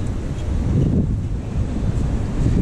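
Steady wind and wave rush on the deck of the SS Badger ferry crossing Lake Michigan, a loud, continuous roar that buffets the microphone without a break.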